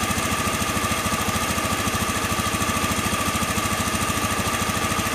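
A car engine idles steadily after being started, checked in connection with its O2 sensor, giving a close, continuous rhythmic chugging with even mechanical pulses and no speech.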